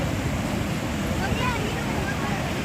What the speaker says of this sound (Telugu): ఉస్మాన్ సాగర్ అక్కడ గేట్లు ఎత్తితే ఈ వాటర్ అనేది ఇలా వెళ్తున్నాయి అనమాట